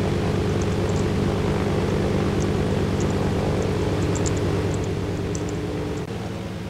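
A plane's engine runs steadily in the survival game DayZ, a loud, even drone with a constant low hum and faint high ticking, fading slightly toward the end.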